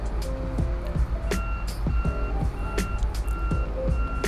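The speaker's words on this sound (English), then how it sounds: "So there was just trucks coming in and out, just working." Trucks move around a construction site with a steady low engine rumble, while repeated electronic reversing beeps sound at regular intervals over the noise.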